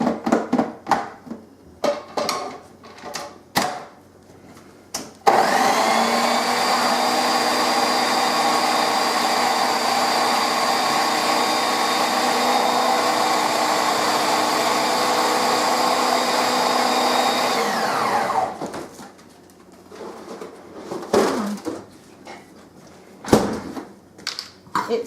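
Electric mixer blending sweet potatoes in a bowl for a casserole, a steady loud motor whine running about thirteen seconds, starting and stopping abruptly, with clattering kitchen handling before and after.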